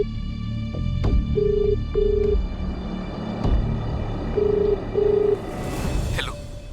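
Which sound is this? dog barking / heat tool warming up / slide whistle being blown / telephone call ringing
telephone call ringing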